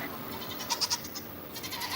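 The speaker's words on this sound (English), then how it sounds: "And this one mama goat always stays back." Goats bleating at feeding time on a farm: three short, moderately close bleats in quick succession over a steady outdoor background hiss.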